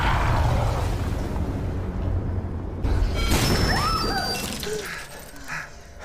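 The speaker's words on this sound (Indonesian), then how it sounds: "Tiba-tiba alat itu meledak." A device blows apart with a loud crashing burst over a dense, noisy rumble in a horror film, followed by shrill scattered whines and squeals.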